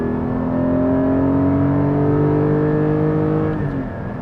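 Porsche 718 GT4 engine revving high after a downshift to third, a loud sustained flat-six wail with rising and falling harmonic tones heard from inside the cabin, continuous over several seconds.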